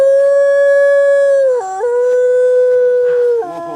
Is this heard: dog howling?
yes